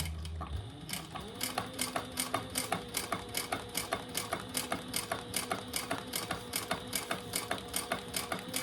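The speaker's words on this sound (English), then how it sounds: "This Disney fabric is nice to sew with, really." A sewing machine stitches pliable Disney fabric for a family travel organizer. The motor spins up and settles into a steady, rapid, close needle clatter that runs throughout, with no voices.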